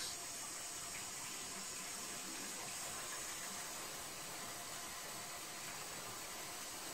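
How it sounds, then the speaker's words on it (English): Tap water runs steadily into a sink as hands are washed, a constant close hiss of flowing water that lasts throughout with no speech. "now let me wash my hands"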